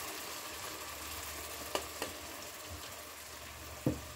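Zucchini purée poured into a red bean curry (rajma) as it fries and sizzles in the pan, a steady low crackle broken by a few soft knocks of a utensil against the pot, with no talking.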